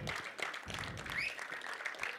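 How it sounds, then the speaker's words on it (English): A crowd at a film trailer launch applauds director Saeed Mirza, dense continuous clapping at moderate volume for a couple of seconds, with a faint whistle-like tone riding above it. "An applause for him."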